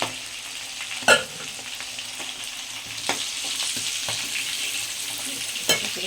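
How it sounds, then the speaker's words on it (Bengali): Crab and its large legs frying in a pan, a steady soft sizzle with a few sharper crackles and pops spaced through it, fairly quiet and unaccompanied by talk. "কাঁকড়া ভাজাটা দেখো বন্ধুরা লাল লাল হয়ে গেছে একদম পুরো ভাজা হয়ে গেছে"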